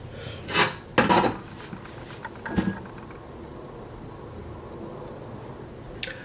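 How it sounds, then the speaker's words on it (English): Crackling and clattering in a pan, a couple of louder scrapes early on, then quieter faint crackles with a final sharp tap. "you can hear it starting to crackle"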